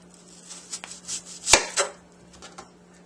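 A knife cuts an onion on a cutting board, with a few sharp chopping taps at uneven intervals and one louder knock near the middle. The cuts are close and crisp, and no one speaks.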